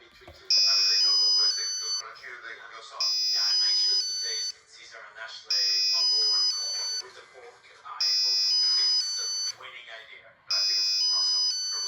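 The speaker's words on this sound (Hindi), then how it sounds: "यहाँ पर जो बजर का साउंड है वो एक म्यूजिकल टोन की फॉर्म में है।" An Arduino UNO buzzer plays a repeating musical tone, bright piercing beeps in regular bursts about every two and a half seconds, loud and alone with no voices.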